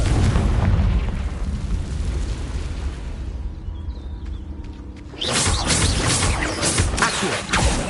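A heavy rumbling blast and its long roaring decay fill the first seconds of a Hogwarts Legacy fight, followed by a quieter stretch and then a second loud burst of crackling, booming magical explosion.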